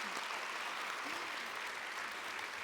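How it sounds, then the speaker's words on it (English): Audience at PAX Aus 2018 applauding a volunteer, a steady, dense wash of clapping that holds evenly across the whole stretch, close and fairly loud with no talk over it. "Everyone, big round of applause for our volunteer. Trinity."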